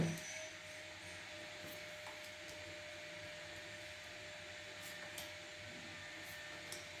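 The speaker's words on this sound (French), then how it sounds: "Désolée pour l'aspirateur." A vacuum cleaner drones steadily in the background of an indoor room, a constant faint whir running throughout with no speech over it.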